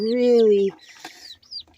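A Leghorn rooster lets out a loud, drawn-out call, followed by softer scattered clucks and chirps from nearby chickens on a homestead.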